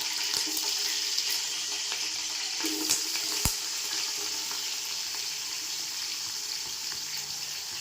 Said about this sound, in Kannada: ಈರುಳ್ಳಿ ಚೆನ್ನಾಗಿ ರೋಸ್ಟ್ ಆಗೋವರೆಗೂ ಕೆಂಪು ಬಣ್ಣಕ್ಕೆ ಬರಬೇಕು, ಅಲ್ಲಿವರೆಗೂ ಫ್ರೈ ಮಾಡ್ಕೊಳ್ಳಿ